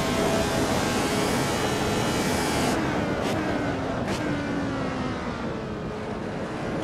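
Lotus 72 race car engine screaming at high revs in Assetto Corsa, a loud continuous whine with a steady pitch sweep, briefly interrupted by two quick gear-change blips near the middle.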